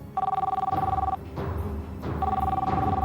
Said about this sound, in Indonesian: Telepon tuh, Pak, angkat.